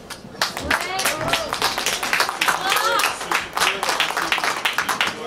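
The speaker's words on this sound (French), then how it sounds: "On applaudit bien fort." Audience clapping at a Radio Sud broadcast event for a day against racism and discrimination, a dense, steady round of hand claps filling the room near the microphone with a few louder claps standing out throughout.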